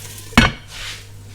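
A metal lid is set back onto a cooking pot holding a tomato-based tagine with mushrooms and sweet peppers, making a single sharp clank up close, followed by a soft rattle and quiet simmering.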